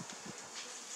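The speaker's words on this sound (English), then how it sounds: "Here are the beautiful bees and the birds" Bees buzz faintly in a garden, a soft steady insect drone with no voices.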